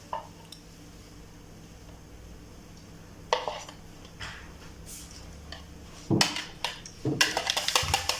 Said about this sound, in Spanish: Entonces ahora voy a batir un huevo.